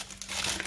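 Caramelized peanuts set down on crinkly parchment baking paper, giving a close, dense rustling crinkle that swells and stays steady for a moment, with no talking.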